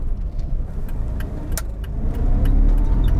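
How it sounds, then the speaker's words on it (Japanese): A 1985 Daihatsu Atrai van cruises along a national road, a steady engine drone and road rumble carrying a faint whining hum from the meshing gears, building slightly louder toward the end. "このギアの噛み合う音が、"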